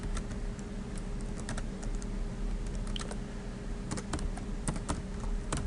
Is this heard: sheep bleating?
no